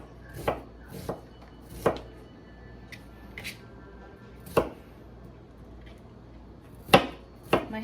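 An onion being chopped with a knife on a board, a series of sharp, irregularly spaced close chops against quiet background noise, with no talking.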